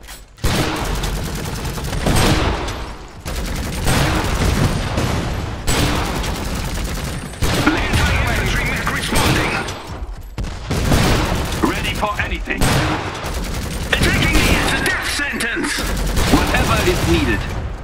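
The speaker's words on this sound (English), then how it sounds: "The bastards are shooting!" Gunfire rattles through a battle in the Iron Harvest PC strategy game, with repeated fusillades, booms and machine-gun bursts in loud waves, while in-game unit voices shout over the shooting.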